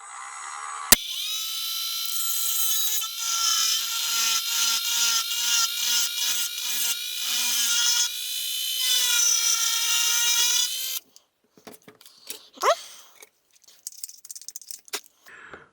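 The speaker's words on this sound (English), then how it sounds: "I take a Dremel with a sharp cutting tool and make this hole a little bit bigger" Dremel rotary tool with a sharp cutting bit grinding a groove into a plastic Gardena spray gun, a loud high-pitched whine with pulsing load changes for about ten seconds, then stopping, followed by faint handling clicks and scraping.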